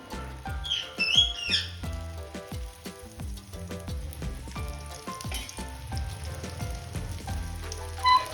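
Bread omelette frying in oil in a pan, a bubbling sizzle dotted with sharp pops, while birds chirp faintly in the background.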